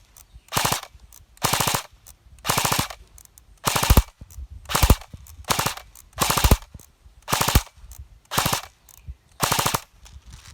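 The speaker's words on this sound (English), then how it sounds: "Let's try this in full auto." A Cyma AKS74U airsoft gun fires in full auto: about ten short, loud bursts spaced roughly a second apart, each a fast rattle of shots, with quiet gaps between and no talking.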